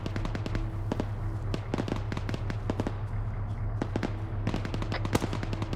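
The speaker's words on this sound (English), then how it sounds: "Spread out a little bit, they're shooting GLs." Grenade launchers fire in a military shooter video game. Sharp bangs and thumps come in quick, irregular bursts over a constant low rumble, some close and loud, others farther off.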